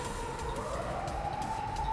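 A wailing siren rises and holds in a mobile gacha video game, a continuous electronic tone over a faint background hum.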